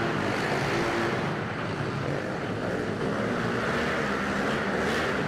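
Several Honda motorcycles and a Kawasaki KLX 110L race around an indoor track, their engines merging into a loud, steady, continuous drone that fills the space without pause.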